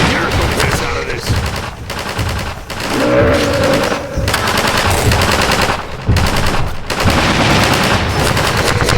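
Sustained automatic gunfire from Half-Life 2: Episode Two fills the scene, with dense rapid bursts and sharp shots continuing almost without pause, loud and close, among game effects and brief voices.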